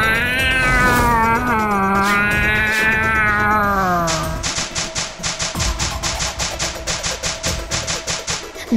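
A cartoon cat gives a loud, drawn-out wavering meow over music, followed by a quick rhythmic pattering run of comic sound effects.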